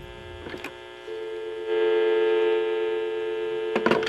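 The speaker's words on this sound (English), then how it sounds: "Hear that dial tone?" A steady, humming telephone dial tone sounds through a speaker for a couple of seconds, with short clicks and clatter before and after.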